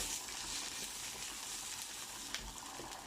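Onions and chili frying in a pan for a vegan parippu dal curry, a steady soft hiss of sizzling oil running throughout at low volume with no talk.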